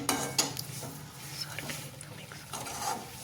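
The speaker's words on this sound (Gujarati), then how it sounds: "બધું સરખી રીતે મિક્સ કરીને હલાવવાનું છે." Carrot halwa being stirred with sugar in a pan at home, a spoon scraping and clinking against the metal in steady repeated strokes, with a faint sizzle underneath and no talking.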